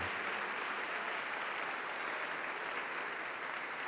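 Congregation applauding at a church service, a dense, steady wash of many hands clapping that holds evenly throughout with no talk over it.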